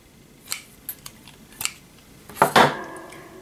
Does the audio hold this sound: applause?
no